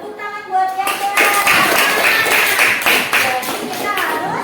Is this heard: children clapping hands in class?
yes